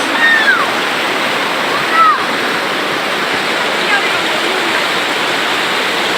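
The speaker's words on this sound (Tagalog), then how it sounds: "Grabe ang agos ng tubig dito guys!" A strong river current rushes in a steady, loud, close roar of churning water, with a few faint whistle-like sounds early on and no distinct talk.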